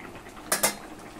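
Metal pot of prawn curry lifted off a kitchen stove, giving two quick, close clinks of metal on metal in a row, alone with no talk.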